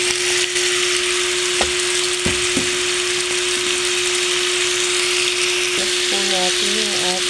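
Winged beans (sigarilyas) hit a hot pan for Bicol express, a loud continuous sizzle with a few clanks of stirring and a steady tonal hum beneath.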